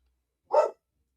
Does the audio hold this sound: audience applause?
no